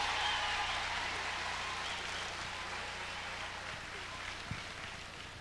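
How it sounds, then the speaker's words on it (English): An audience applauds a calypso singer at a 1993 performance: dense, steady clapping like heavy rain that holds for several seconds and thins slightly toward the end. "I think he deserves a bigger round of applause"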